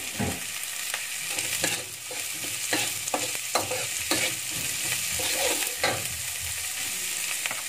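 Corn kernels stirred and fried in a pan: continuous sizzling with repeated scraping and clacking strokes of the utensil at an irregular rhythm, close and moderately loud, with no talking.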